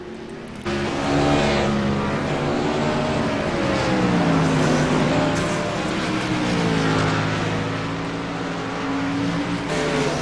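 Race cars lap a track with loud, continuous engine drone whose pitch rises and falls as they accelerate and pass, filling the whole stretch with steady roar.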